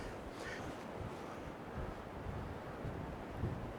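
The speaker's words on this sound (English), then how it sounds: "The wind's just starting to calm down now, but it's been horrific all day" Strong wind gusting outdoors beside choppy water with whitecaps, a steady broadband roar buffeting the microphone, with no talking.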